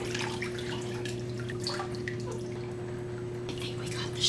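Gentle water sloshes and drips in an outdoor hot tub as someone shifts position, faint splashes over a steady low hum from the tub.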